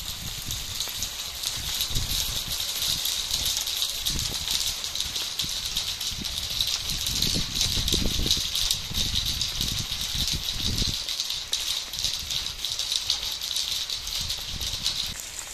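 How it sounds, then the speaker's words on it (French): Dense, steady clatter of hailstones pelting surfaces in a heavy hailstorm in Moselle, France, with heavier thumping bursts now and then, continuous throughout. "Parce que ça a l'air de grêle."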